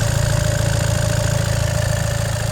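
Diesel engine of a 2019 Volkswagen Crafter van idling, a close, steady low rumble with an even, smooth rhythm throughout.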